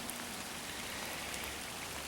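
Heavy outdoor rain falls in an unbroken wash of patter and hiss, close and steady throughout with no voices.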